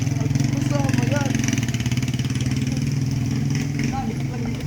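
A motorcycle engine runs with a steady, throbbing idle close by, its pulsing rumble continuous throughout, while people talk over it.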